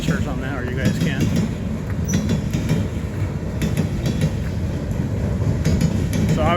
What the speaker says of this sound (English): Not sure how long this train's going to be.